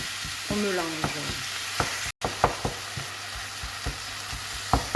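Garlic powder stirred into raw ground meat in a bowl, soft repeated squelching and scraping strokes at an irregular rhythm, close and quiet with no talk.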